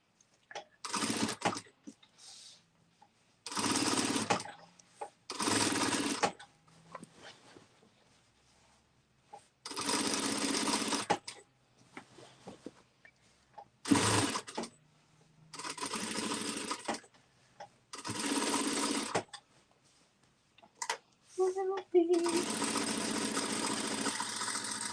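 An industrial sewing machine does free motion quilting on a baby quilt, its rapid needle chatter running in bursts of a second or several seconds, separated by quiet pauses, close up and with no speech.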